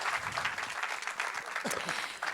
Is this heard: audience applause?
yes